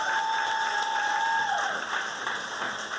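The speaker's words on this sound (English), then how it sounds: "give them a round of applause for everything that they do right now" An audience at a first responders appreciation show applauds for nurses, a steady wash of clapping with a sustained tonal sound sliding downward over it, then tapering slightly toward the end.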